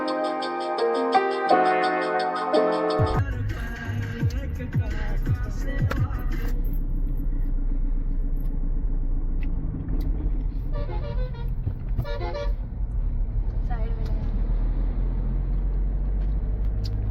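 A Mahindra Scorpio Z cruises along the Agra-Lucknow Expressway, a continuous low road and engine rumble inside the car. It follows a brief stretch of music at the start.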